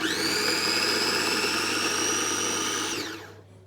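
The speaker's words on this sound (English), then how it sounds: "I have now put a half glass of cheap olives into the mixer, and I am gonna also just chop them" A kitchen mixer whirs steadily while chopping half a glass of cheap olives, a loud continuous motor whine that holds for about three seconds before spinning down and fading out.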